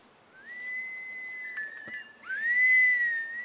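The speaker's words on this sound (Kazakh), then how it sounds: "Сен сияқты ысқырып үйренуім керек" A person whistles clear, sustained tones that rise and glide, with a short pause before a louder, brighter phrase, alone and close.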